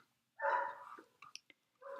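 A large dog barks in the background of a home art stream, a long harsh bark followed by a few short yips and another bark, fairly close and loud.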